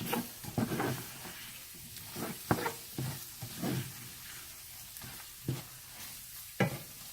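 Beef sizzling in a frying pan while being stirred, a steady background crackle broken by a series of sharp scraping knocks from the utensil at irregular intervals, close and with no talking.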